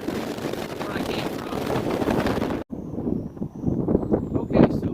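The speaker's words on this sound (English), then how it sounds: "it's like really windy" Strong gusting wind buffets the microphone out on Perry Lake from a small boat, a loud continuous rumble that briefly drops out midway and returns rougher and more uneven.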